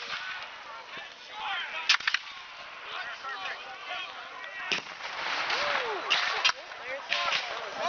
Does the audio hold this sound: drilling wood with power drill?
no